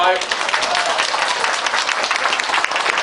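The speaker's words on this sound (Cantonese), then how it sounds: "請大家俾一啲熱烈嘅掌聲俾佢" A crowd at a 2012 Chinese New Year gathering breaks into warm applause for the visiting Premier, a dense, loud wash of clapping from many hands that holds steady throughout.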